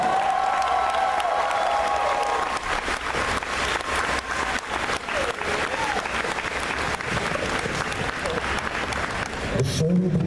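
A convention crowd at Indy PopCon 2015 breaks into sustained applause and cheering for voice actor Troy Baker, many hands clapping loudly and steadily over an amplified announcer's voice, with a brief tonal note early on.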